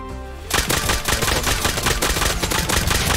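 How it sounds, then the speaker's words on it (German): Rapid nail gun fire in the video game Rust, aimed at a player outside a base: after a short pause, a loud, dense burst of repeated shots hammers on continuously for about three seconds. "Hab Tommy Full Kid vor der Base gekillt mit meiner Nagelpistole"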